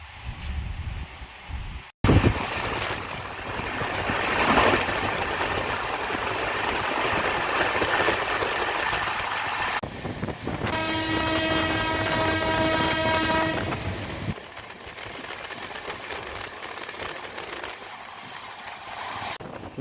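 The Indore-Daund Express running at high speed, heard from on board: a loud, steady rumble and rattle of the carriages, with a long sustained horn blast in the middle.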